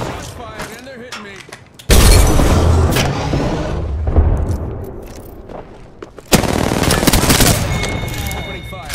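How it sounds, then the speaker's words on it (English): Bursts of rapid gunfire in an Apex Legends firefight, with two loud sustained volleys separated by a lull, heavy booming impacts under the shots, and voices talking over the action. "Shots fired and they're hitting me."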